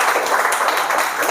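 Audience at a celebration event clapping together, a dense, continuous wash of applause close and loud throughout.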